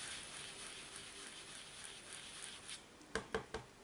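Steady rain falls outside as a soft, even hiss with light patter, ending in three sharper, closer taps.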